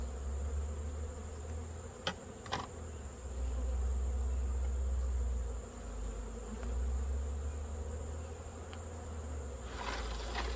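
A continuous low hum of many bees buzzing close by, with a couple of sharp clicks and faint rustling.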